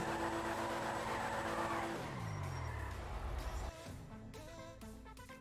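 Video-game car in GTA V (FiveM), an Atom car: a loud engine roar drops in pitch with a tyre skid, then revs again with rapid gear shifts, close and continuous throughout.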